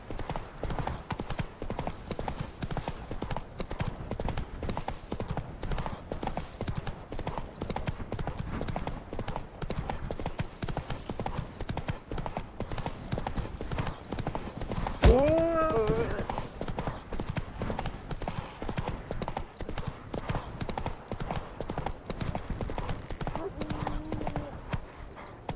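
Roach, a horse in a video game, gallops with fast continuous hoofbeats that stay loud and close, with a brief whinny midway and speech at times over the gameplay.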